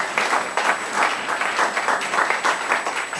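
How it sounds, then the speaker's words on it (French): A church congregation applauding during an evangelistic service, a sustained roomful of dense clapping that holds steady throughout at moderate distance. "And put our hands together for the word of God."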